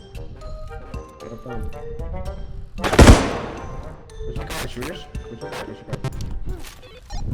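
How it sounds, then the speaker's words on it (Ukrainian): A grenade blast in a realistic bodycam-style shooter game, one sharp loud burst about a third of the way in, set among ongoing game noise with clicks and background tones. "я під себе гранату кинув"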